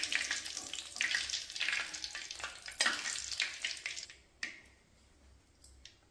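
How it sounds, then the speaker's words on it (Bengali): Bombay duck (lote fish) chops frying in oil, a dense crackling sizzle with sharp pops that suddenly drops to a faint hiss with scattered spatters, as if the pan quiets or the chops are lifted out. "তো আমাদের লোটে মাছের চপ কিন্তু রেডি, ভাজাও হয়ে এসেছে।"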